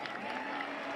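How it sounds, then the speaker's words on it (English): Fans at the NFL Combine cheer and applaud after a fast sprint, a steady, distant crowd roar filling the whole moment without a break. "Fans are cheering"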